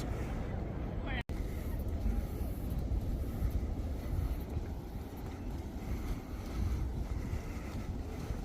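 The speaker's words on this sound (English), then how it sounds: "Tasman Sea is famous for the waves." Tasman Sea surf rolls onto a black sand beach at Muriwai, a steady broad wash of waves heavily mixed with strong wind buffeting the microphone, and no clear talk over it.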